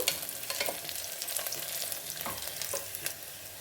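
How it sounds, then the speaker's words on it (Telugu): Onions fry in oil in a pan for coconut milk rice, a close, steady crackling sizzle broken by repeated scraping stirs of a spatula, with no voices. "కొంచెం బ్రౌన్గా వచ్చేంత వరకు వేపుకుందాము"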